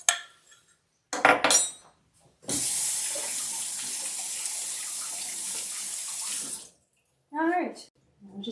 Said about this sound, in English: And pour our liquids in.